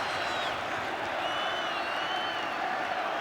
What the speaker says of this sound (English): And the Windsor Park crowd alive now.